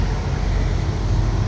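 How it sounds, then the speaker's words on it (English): A semi truck's engine idles steadily close by, a continuous low diesel rumble with no talk over it. "The truck's idling right now"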